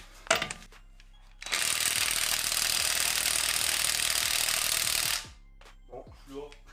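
An impact tool loosens the wheel nuts on a drift car in one loud, continuous hammering burst of about four seconds, with people talking quietly before and after.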